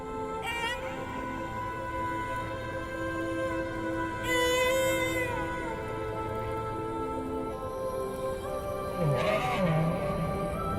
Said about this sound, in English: As he matures, Petit Point will memorize the song that he hears from other whales.